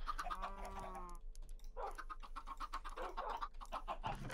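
Chickens clucking in the video game Minecraft, a short run of pitched clucks early on, then clicky keyboard-like tapping and game noise filling the rest.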